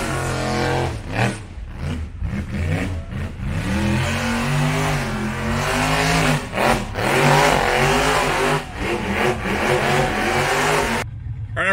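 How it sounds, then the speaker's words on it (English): Several cars doing burnouts at a Cleetus and Cars event in the rain, engines revving hard in loud repeated bursts of roaring throttle, with the wheelspin continuous and close for most of the clip. "They're still doing Burnouts."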